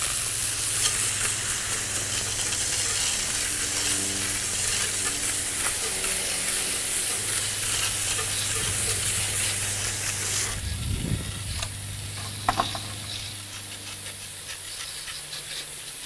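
A water hose sprays steadily over a Honeywell electronic air cleaner collector cell, a continuous close hissing rush with a low hum underneath, shifting briefly in tone partway through.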